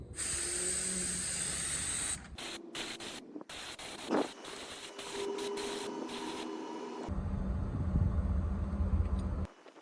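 Spray gun or aerosol laying a second coat of clear coat onto BMW X1 trim, a steady close hiss in several bursts with short pauses and a rattling click between them.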